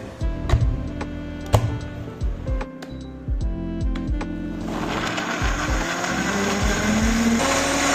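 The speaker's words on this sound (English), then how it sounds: "I'm going to give this a rough blend" An electric blender pulses in short whirring bursts, then runs steadily, roughly mixing green seasoning with olive oil and vinegar for Jamaican brown stew chicken; no talk over it.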